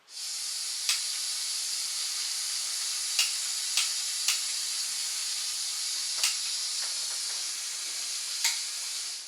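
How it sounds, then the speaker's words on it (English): Gas hissing steadily out of a camping stove in a garage, a loud continuous near hiss lasting throughout, broken by a few faint clicks and taps. "There's a lot of gas coming out of there."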